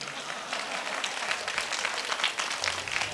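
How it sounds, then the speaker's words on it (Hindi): An audience at a comedy poetry gathering breaks into brief, dense applause, many hands clapping together in a steady patter, with faint crowd voices underneath. "ताली कम बज रही है जैसे सब सपा के हों"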